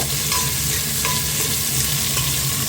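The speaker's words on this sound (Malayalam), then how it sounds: "അപ്പോൾ ഇനി ഇത് നല്ലതുപോലെ ഇളക്കി യോജിപ്പിക്കുക." Sliced onions frying and being stirred in a pan for South Indian kadala curry, a steady close sizzle with scraping strokes of the spoon at intervals and no talking.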